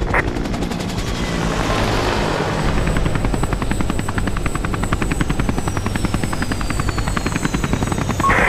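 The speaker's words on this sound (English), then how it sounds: "Helicopter! 9 o'clock!" A helicopter in the video game Call of Duty: Strike Team, rotor thumping steadily and loudly throughout, with rapid chopping pulses and a whining high tone over a rumbling background.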